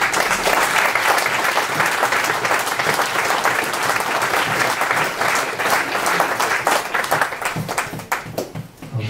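Church congregation applauding together, sustained loud dense clapping that carries on steadily for several seconds and thins slightly toward the end.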